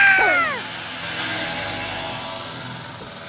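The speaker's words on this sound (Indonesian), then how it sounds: "maafkan juga kalau kalian mendengar suara mobil dan motor karena di rumah aku itu berada di samping jalan trans" Traffic on the road beside a house: a vehicle sweeps past close by at the start with a falling engine tone, then fades into a steady distant hum of passing cars and motorbikes.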